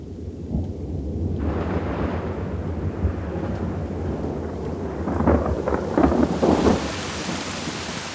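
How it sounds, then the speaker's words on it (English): Thunder rolls and rumbles over the Masai Mara as an October storm approaches, a deep sustained grumble with a louder crackling burst late on, over a steady hiss of rain. "On the Masai Mara, the storms of October approach."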